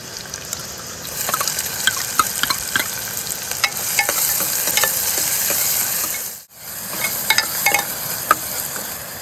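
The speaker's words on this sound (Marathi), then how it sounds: "थोडं ढवळून घेऊया. आता टाकूया कांदो." Onions fry with curry leaves in a pan, a strong steady sizzle broken by scraping and clinking of a stirring spoon, with a brief dip in the middle before the frying and stirring resume.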